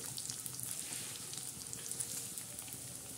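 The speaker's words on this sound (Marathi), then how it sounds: "हे बघा असे बोंबील चांगले भाजून घ्यायचे" Dried Bombay duck fish roasts in a pan with a soft, steady sizzling hiss, quiet and continuous throughout.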